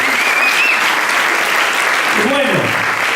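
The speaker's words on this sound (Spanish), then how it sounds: "Tienen un aplauso bien fuerte a Jesucristo" Church congregation applauding loudly for Jesus Christ during a Sunday service, a thick steady wash of clapping throughout, with a brief voice rising over it near the end.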